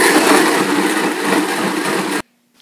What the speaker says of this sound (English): Now let it blend.